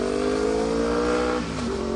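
Sport bikes screaming past on a mountain road, a loud continuous high-revving engine wail with a falling pitch as one sweeps by close up.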